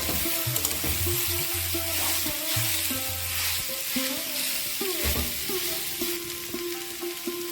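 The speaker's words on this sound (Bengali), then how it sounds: "এই জন্য এই রেসিপিটি করতে গেলে বারবার নাড়তে হবে" Cabbage being stirred in a dry pan with no added water, a spoon scraping and tapping rhythmically over a steady sizzle, close and clear without any voices.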